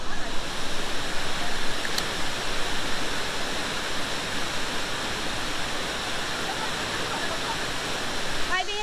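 Waterfall at St Nectan's Glen in Cornwall, a steady loud roar of falling water that fills the whole span with broadband rushing noise and continues without a break.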